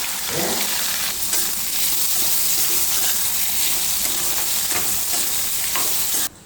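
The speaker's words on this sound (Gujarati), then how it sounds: "હવે જે વધારાના કારેલા છે એને ફરી વખત તળી લઈશું." The remaining bitter gourd pieces fry in hot oil, giving a steady, close hiss with light crackling and a few stirring knocks, cutting off abruptly near the end.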